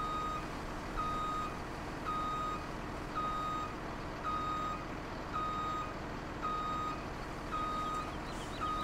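A truck reversing in Farming Simulator 17 gives steady, evenly spaced backup beeps, about one per second, over a constant engine hum.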